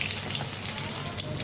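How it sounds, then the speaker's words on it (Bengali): Katla fish frying in a pan, a steady close sizzle and crackle of hot oil with no pauses through the short stretch. "মাছ সব ভাজা হয়ে গেল"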